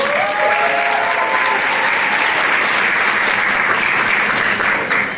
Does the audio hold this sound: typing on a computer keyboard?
no